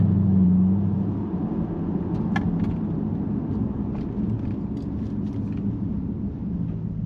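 A Jaguar XFR (X250) with an automatic gearbox drives along with a steady, low engine and road rumble heard from inside the cabin, fairly even in loudness throughout.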